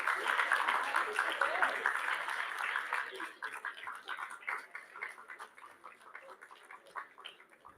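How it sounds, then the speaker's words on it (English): An audience applauds the participants at a poetry event with a burst of clapping that gradually thins into scattered claps while someone talks over it. "Can we have a big round of applause for all of the participants?"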